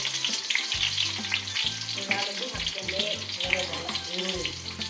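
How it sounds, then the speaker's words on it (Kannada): Sliced onions fry in a pan for a desi-style chicken curry, giving a steady close sizzle with light stirring throughout. "ಇದು ಇವಾಗ ಗೋಲ್ಡನ್ ಬ್ರೌನ್ ಕಲರ್ ಆಗುತ್ತಲ್ಲ ಫ್ರೈ ಮಾಡ್ತೀವಿ"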